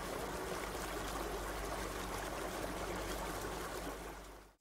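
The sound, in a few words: flowing river water, spatialized audio in Unity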